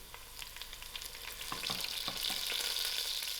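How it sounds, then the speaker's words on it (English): A braise for gram dhal and sheep tripe fries in a pan while being stirred, a steady bright sizzle that rises and thickens, with scraping stir strokes throughout and no talking. "Give it a good mix and let it fry out a little"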